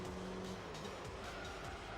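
A Camaro race car in a racing video game brakes hard, tires squealing and skidding under a steady engine drone, loud and continuous.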